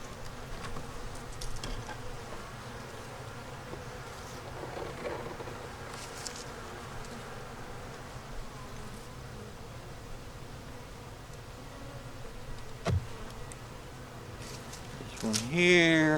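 Honeybees swarm over a beehive frame, a dense close buzz that continues throughout under faint rustling, with a person speaking briefly near the end.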